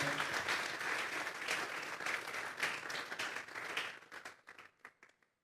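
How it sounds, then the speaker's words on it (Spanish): A church congregation bursts into applause during a service, a thick, lively roar of clapping that thins into scattered individual claps and fades out near the end. "Vamos a darles ofrenda de palmas a Dios en esta hora."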